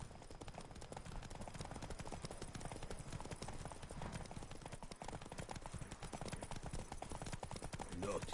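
Steady clip-clop of a horse's hooves trotting continuously in a video game, dense and rhythmic, with voices faintly underneath and a constant background bed.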